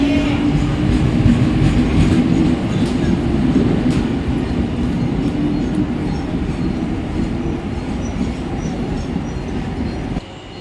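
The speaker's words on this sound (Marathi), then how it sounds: "प्लॅटफॉर्म क्रमांक 2 पर आई हुई लोकल 7:08 की मुंबई छत्रपति शिवाजी महाराज टर्मिनस जाने वाली हिंदी लोकल है।" A Mumbai suburban local train rumbles steadily at a station platform, with continuous loud wheel and carriage noise and clattering that eases slightly near the end.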